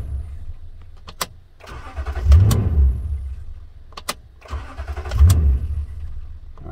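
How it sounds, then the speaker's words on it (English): 2009 Toyota Tundra 5.7 with an intermittent no-crank fault, two attempts at starting it with its key, sharp clicks followed by a low rumbling crank that swells and fades, close and fairly loud, with no voices. "I'm going to use the key that he uses most of the time, and I'm going to try and start it"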